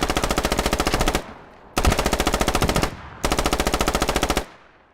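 Full-auto gunfire from a competitive video game match, heard as three loud sustained bursts of rapid, evenly spaced shots, each lasting about a second, with short pauses and a fading tail between them.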